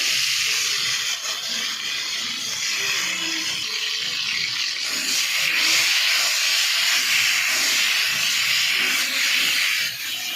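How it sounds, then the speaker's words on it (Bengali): Brinjal pieces fry in oil until reddened, producing a loud continuous sizzling hiss that stays close and steady for the whole stretch, with faint kitchen sounds beneath and no talking. "বেগুনগুলো একটু লাল লাল করে ভেজে নেবো"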